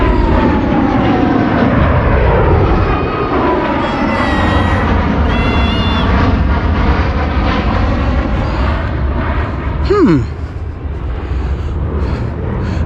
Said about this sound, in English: Looks like a couple of F-15s, maybe?